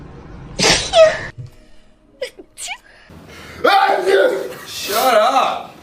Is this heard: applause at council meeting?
no